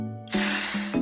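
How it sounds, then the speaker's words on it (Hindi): Water sprayed from a spray bottle onto old wallpaper in a Shinchan cartoon, a single sustained hissing burst lasting under a second between tonal background sounds, with no talking. "इसके ऊपर ऐसे पानी स्प्रे करते हैं"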